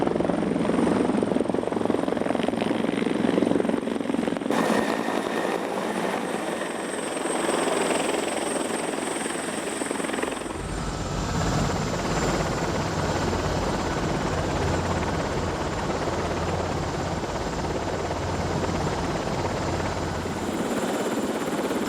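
Helicopter approaching to land on the helideck of the Geo Challenger seismic survey ship at sea, its steady rotor and turbine roar loud and continuous throughout, the tone shifting partway as it descends, with no talk.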